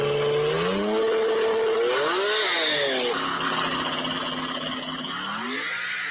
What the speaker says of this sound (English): I love the sound of those damn 2JZs though.